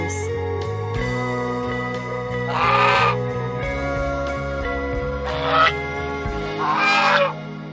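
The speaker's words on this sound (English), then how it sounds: "goose." A goose gives a series of loud nasal honks, several separate calls with short pauses between, heard close and alone.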